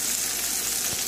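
Food sizzles and fries steadily in a pan as it is stirred, a dense close crackling hiss throughout the short moment.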